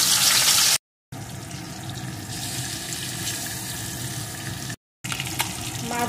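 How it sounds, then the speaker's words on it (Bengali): Pieces of rohu fish fry in hot oil in a pan, giving a steady, close bubbling hiss that holds even throughout, broken by two short abrupt gaps of silence. "এখন বাকি মাছগুলোকেও একইভাবে ভালো করে ভেজে নেব"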